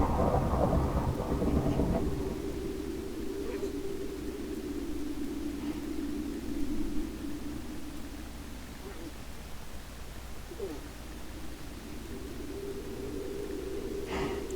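A thunder and rainstorm in the video game Minecraft, a low steady rumble and hiss of rain with a rolling thunder swell at the start, continuing throughout with no speech.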